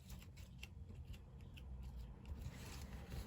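Paper torn from a collage masterboard, with faint close scratchy rips and small crackling ticks in uneven bursts over a low background hum.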